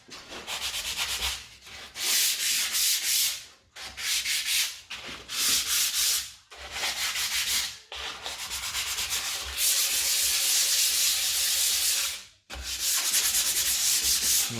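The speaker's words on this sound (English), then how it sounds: "You can always use a little bit of sandpaper. Get some P240." P240 sandpaper rubs squeezed-out wood glue off a homemade kitchen door, loud close scratchy strokes in long bursts broken by short pauses, with no voices.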